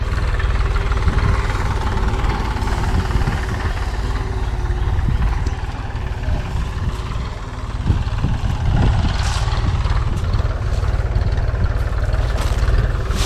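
A Mahindra tractor engine runs steadily on a farm during moong harvesting, a loud continuous low rumble with rattling, close by and without letup.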